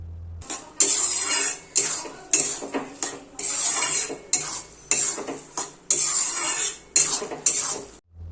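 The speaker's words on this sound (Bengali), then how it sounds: "এবার যে নারকেলটা কুড়ে রাখা হয়েছিল সেই নারকেলটা চাল কুমড়োর মধ্যে দিয়ে অনবরত ভালো করে মিশিয়ে নিতে হবে" A spoon repeatedly scrapes and clatters against a pan while grated coconut is mixed into boiled ash gourd, in regular strokes with short pauses, close and fairly loud.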